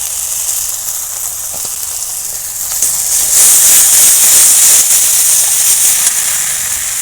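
Bombay duck (lote fish) hits a hot pan and sizzles loudly, a steady close hiss that swells sharply partway through and stays strong to the end.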